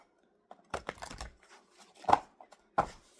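Quick clusters of papery flicks and riffles, a deck of cards being shuffled nearby in short bursts with pauses between.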